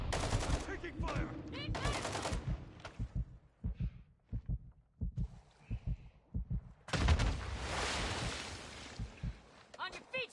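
Bursts of rapid automatic gunfire and scattered single shots ring out in a video game shooter, mixed with a voice and thumping effects, loud and close.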